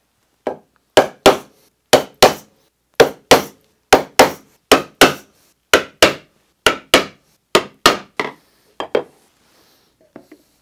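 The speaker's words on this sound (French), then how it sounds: "c'est impératif de mettre un coup de ciseau pour éviter l'arrachement." A wood chisel is struck repeatedly with a mallet while hand-cutting a rebate in a wooden box, giving about twenty sharp, loud knocks, often in quick pairs, close and alone, tapering to lighter taps at the end.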